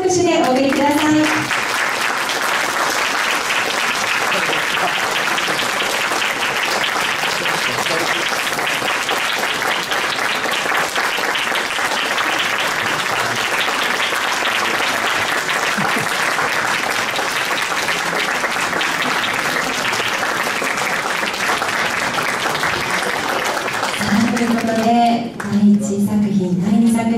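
A hall audience at a regional flower-arrangement competition selection event applauds continuously for nearly half a minute as contestants file in, a loud and steady clapping wash, with a speaker's voice heard briefly at the start and again near the end.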